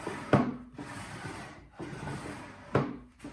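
A freshly waxed wooden drawer slides along its wooden runners of a table, giving a few soft rubbing strokes in and out, close and fairly quiet, with no talking.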